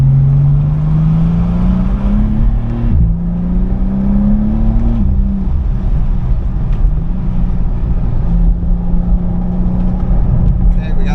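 A 2023 BMW M2 (G87) engine drones loud and close on a race track, its pitch climbing through gears with shift drops, under steady cabin noise.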